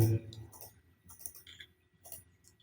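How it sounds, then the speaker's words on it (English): A computer mouse is double-clicked while modelling in CATIA V5, the pair of quick, light clicks sitting faint and close amid low background talk. "I'm going to double click on the dimension tool"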